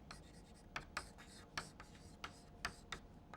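Marker or chalk strokes on a board during a physics lecture on standing waves, a handful of short scratchy taps and squeaks spaced irregularly over a low room hum, close and fairly quiet.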